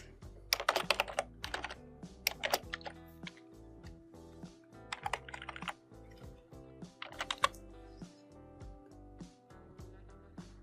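A file name is typed on a computer keyboard in short bursts of crisp, close key clicks separated by pauses, with no voices.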